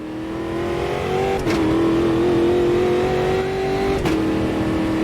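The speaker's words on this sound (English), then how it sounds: "Did you hear that as we're going over the bumps and ripples there? Did you hear that drivetrain wobble?" A Brazilian Stock Car engine in a sim racing video game drones steadily at high revs, broken twice by brief rattling jolts as the drivetrain wobbles over bumps and ripples.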